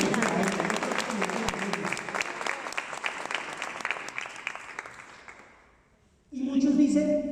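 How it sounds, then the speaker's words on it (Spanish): A church congregation claps loudly in dense, sustained applause that gradually fades toward silence, before a sudden burst of loud sound returns at the end. "Dale un fuerte aplauso a Dios."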